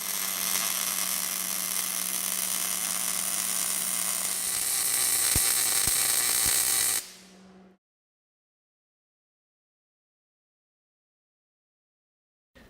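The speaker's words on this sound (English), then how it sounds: "You make one straight weld." MIG welding gun laying one straight bead on a workpiece: a steady, close, loud crackling hiss that runs unbroken for about seven seconds, then cuts off abruptly into silence.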